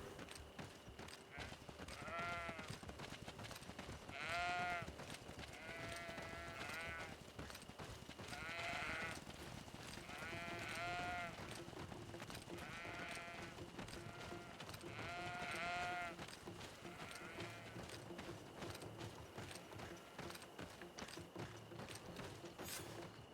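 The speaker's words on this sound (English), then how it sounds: "Oh, is that a regular goat?" Repeated goat bleats in a video game, several wavering cries at irregular intervals over a faint background of clopping hooves and ambient game sound.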